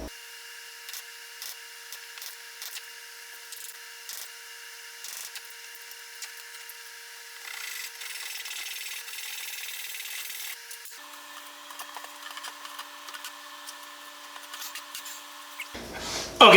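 A wooden wall panel for a shop clamp storage wall gets a corner notch cut, with intermittent rasping, sawing strokes at moderate volume close by and a louder burst at the end.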